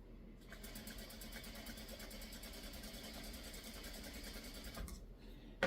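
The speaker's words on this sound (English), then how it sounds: "while I'm sewing my corners, I'm also going to go ahead and sew my stem" A sewing machine stitches quilt fabric for a pumpkin quilt, its motor giving a faint, steady mechanical whir with a fine rapid ticking for about five seconds before stopping.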